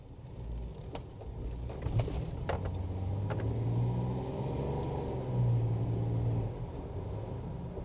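A 2003 Jeep Wrangler is driven through city streets, its steady low engine and road rumble continuous and fairly quiet, with a few brief clicks and knocks from the cabin and no talking.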